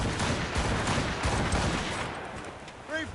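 Ship cannons firing during a naval battle in Assassin's Creed Rogue Remastered, a rolling volley of booming blasts with shouted voices mixed in.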